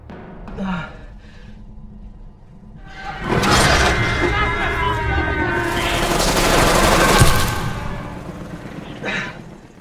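Heavy gunfire erupts in a film attack scene, a loud sustained burst of shots lasting several seconds, with brief voices and gasps before and after.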